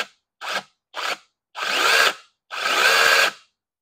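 A 6-inch mini chain saw whirs in short bursts: two quick blips, then two longer revving runs, loud and close with silence between each trigger pull.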